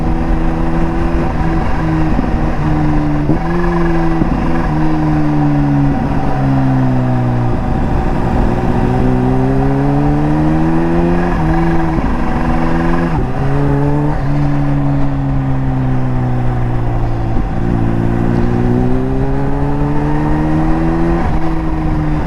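Steady Kawasaki Ninja H2 motorcycle engine drone while riding rough Pennsylvania roads, with the pitch rising and falling repeatedly through gear changes; loud and continuous, no talking.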